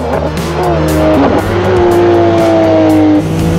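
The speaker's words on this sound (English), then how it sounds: "It had this fire-breathing engine that when you downshifted, shot massive flames out." A Group C race car engine roars loudly at high revs, its pitch sliding down through gear changes, with a sharp crackle partway through.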